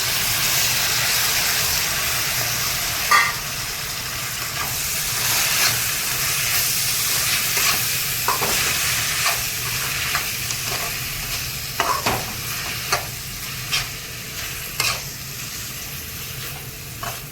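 Tomatoes are added to a hot pan with curry leaves for a chana dal and egg curry and fry with a steady hiss and sizzle, broken by occasional stirring clicks and taps, close and continuous.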